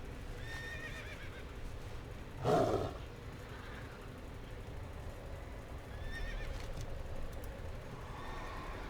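A horse mount neighs once loudly in a video game, a sharp whinny rising over steady game ambience, followed by faint softer calls and a low background hum with no talking.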